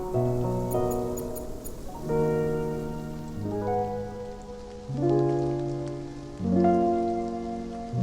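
Steady rain falls in the video game Love and Deepspace, a soft continuous patter mixed under gentle melodic music, with no voices.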